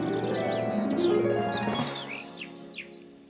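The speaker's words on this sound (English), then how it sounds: "we also have the Welcome Spring car horn" Whimsical spring-themed car horn in Forza Horizon 5, a layered tonal chord with bright bird-like chirps and tweets scattered over it, fading into a few lone chirps.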